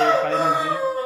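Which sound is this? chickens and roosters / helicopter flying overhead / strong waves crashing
chickens and roosters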